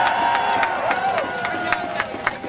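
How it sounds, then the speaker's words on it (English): A rally crowd in Wisconsin claps in a steady rhythmic beat for elected officials, sharp regular hand claps continuing throughout over a faint sustained tone. "can we give them one more great big round of applause?"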